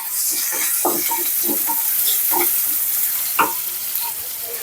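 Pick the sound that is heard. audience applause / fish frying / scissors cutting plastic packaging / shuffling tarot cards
fish frying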